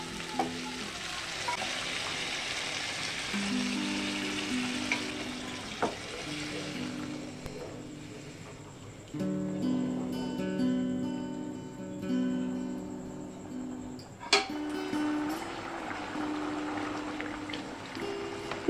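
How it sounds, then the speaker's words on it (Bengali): Boiled chickpea water poured into a pan of frying spiced chickpeas and potatoes for chana paneer brings a long bubbling sizzle with splashy surges. A soft melodic tone plays in the background throughout. "এখন দিয়ে দেবো ছোলা সেদ্ধ জলটা।"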